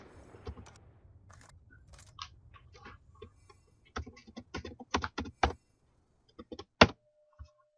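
Rapid clicks and clacks of a computer keyboard being typed on, in irregular bursts with short pauses, close and fairly quiet, with no talking.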